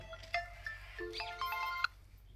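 A melodic electronic phone ringtone plays a short tune of bright, sustained tones, with a low steady hum underneath and no voices.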